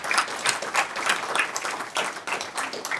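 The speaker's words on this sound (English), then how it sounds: "I think we should give him a round of applause" A round of applause from the audience at an industry insight event, a close, busy burst of clapping that swells and dips over a few seconds, with no talking over it.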